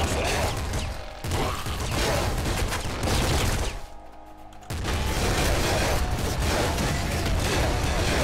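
Rapid, dense Gatling Slugger fire from the video game Nuclear Throne blasts in near-continuous bursts, loud and crunchy, with a short pause in the middle before the barrage resumes.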